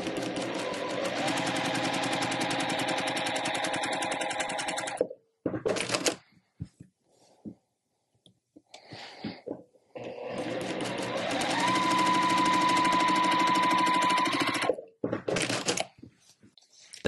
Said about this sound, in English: we're going to sew about a quarter inch, just under, I would say, from either side of this drawn line